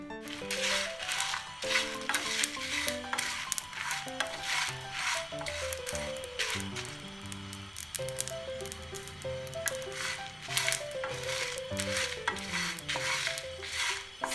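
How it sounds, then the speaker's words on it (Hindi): Korma masala spices being stirred and dry-roasted over low heat in a pan, with steady scraping and rubbing strokes of a spoon against the metal, close and continuous, under music. "सभी मसालों को बिल्कुल स्लो आंच पे भूनिएगा।"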